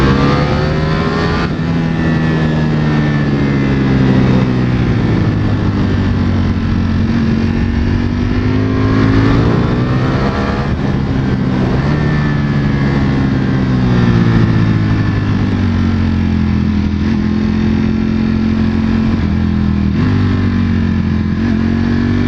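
A 2021 Ducati Panigale V4S motorcycle engine held at half throttle gives a loud, sustained, close roar for over twenty seconds. Its pitch swells and dips with the revs, and no voices are heard.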